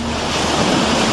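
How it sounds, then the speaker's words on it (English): Floodwater from a sudden deluge surges through a flooded subway system, making a loud, steady rushing roar with wind-like noise and no speech. "Its subway system now an underground river."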